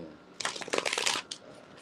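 A quick riffle of playing cards, a dense ruffling burst lasting under a second with a brief flick after, close up.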